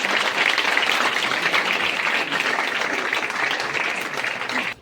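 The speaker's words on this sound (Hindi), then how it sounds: "जोरदार तालियों से सर का हम स्वागत करते हैं।" At a school gathering, an audience gives a hearty round of applause to welcome a guest. The clapping is thick, close and continuous, then cuts off abruptly at the end.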